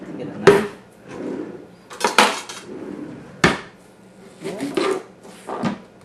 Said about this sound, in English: Get a knife.